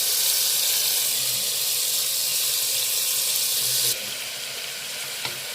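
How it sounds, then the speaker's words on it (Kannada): Spice paste fried in oil in a home kitchen pan, a steady close, bright sizzle running throughout, easing slightly toward the end with a small clink near the close. "ಸ್ವಲ್ಪ ಎಣ್ಣೆಲೆ ಚೆನ್ನಾಗಿ ಫ್ರೈ ಆಗಲಿ"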